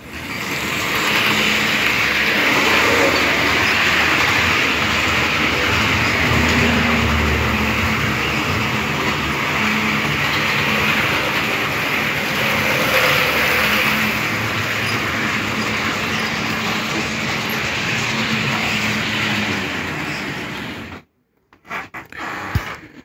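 Continuous rumbling and whirring of a small model locomotive with a weak motor running along its track for a long stretch, then stopping abruptly, followed by a few faint clicks.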